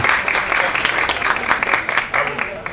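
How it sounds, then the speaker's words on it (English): An audience at a civic celebration in Paterson's Great Falls Historic District applauds, producing loud, dense clapping that stays steady throughout, with a voice faintly audible underneath. "Let's give him a round of applause."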